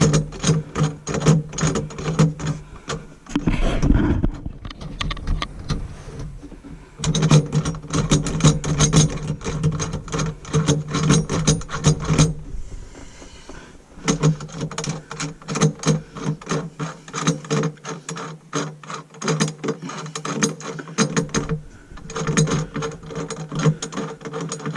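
Ratchet tightening the fittings of a garbage disposal drain assembly under a sink, a close, rapid clicking pawl that runs in long bursts with brief pauses between strokes, no voices over it.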